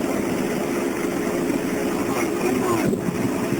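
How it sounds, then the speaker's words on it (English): Steady, broad wind roar buffets the microphone throughout on a windy night at a roadside DUI stop, with a low rumbling undertone and faint talk buried in the noise. "Yeah, it's a windy night"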